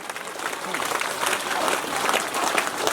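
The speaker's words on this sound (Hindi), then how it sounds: "जोरदार तालियां राजा साहब के लिए।" A crowd at a Tunan Jeth fair gives sustained, building applause to welcome Raja Sahab, a dense wash of clapping, with a voice faintly audible underneath.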